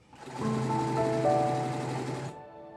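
A sewing machine stitches upholstery panels for a Barcelona chair in one steady burst of about two seconds, with a rapid whirring hum up close.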